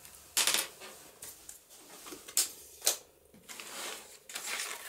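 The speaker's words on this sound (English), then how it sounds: "so I'm going to need my paper trimmer." A paper trimmer slices paper for a journal page, giving a few sharp, close clicks and short swishes spaced irregularly over quiet room tone.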